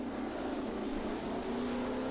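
Racing car engine in the rFactor racing game, a steady high droning whine held at near constant pitch, loud and close, with no voices.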